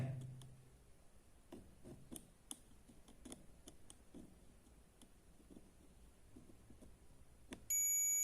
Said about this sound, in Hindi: देखिए बीप की आवाज देता है